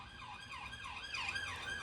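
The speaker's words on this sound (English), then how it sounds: "Can you hear those sirens?" A siren wails in steady rising and falling sweeps, loud and continuous over a low traffic rumble.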